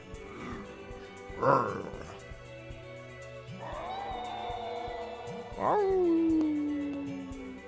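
Dogs in the video game Trails From Zero let out a drawn-out, falling howl near the end, after a couple of sharper yelps, over steady game music and sound effects.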